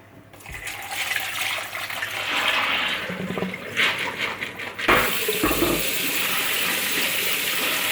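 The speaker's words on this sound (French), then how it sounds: "je vais jeter l'eau de cuisson, je vais les rincer" Tap water runs hard into a kitchen sink as cooked beans are drained of their cooking water and rinsed, a steady rushing splash with a brief shift in flow midway, alone without talk.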